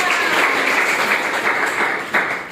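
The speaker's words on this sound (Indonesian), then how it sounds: "Oke, tepuk tangan untuk kita." A room full of people claps together, dense and steady applause at close range, tapering slightly with a final burst near the end.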